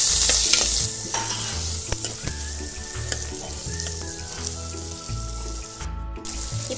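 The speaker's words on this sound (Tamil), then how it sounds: "இப்போ தக்காளி சேர்த்துட்டு நல்லா வதக்கிக்கலாம்" Chopped tomatoes sautéing and being stirred in a hot pan for a sambar, with steady loud sizzling and repeated scraping strokes of a spoon, no talking.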